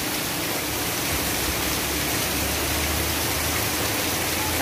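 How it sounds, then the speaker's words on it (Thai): Heavy rain pours from a hospital building roof in Surat Thani, Thailand, a dense, unbroken roar of falling water that fills the whole stretch with no voices. "รายงานข่าวฝนตกจากหลังคาตึกโรงพยาบาลสุราษฎร์ธานี"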